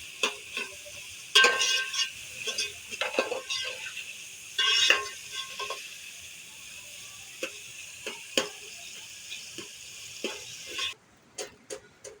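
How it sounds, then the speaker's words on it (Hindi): Tomato frying in a pan, a soft steady sizzle with sharp clicks and scrapes of a spoon stirring against the metal at irregular intervals, fairly close and mostly without talk. "फिलहाल हम इस टमाटर को अच्छे से फ्राई करके फिर इसके मसाले इसमें शामिल करेंगे"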